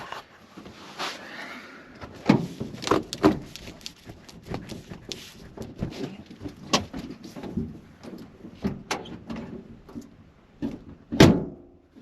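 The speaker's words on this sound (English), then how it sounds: "As I was trying to get that door open, broke the handle clean off on the outside, completely snapped off." A frozen Volkswagen Vanagon door is forced in 10°F winter cold: repeated sharp clunks, knocks and rattles of the stuck door and its handle, irregular and close, ending in a louder burst of banging.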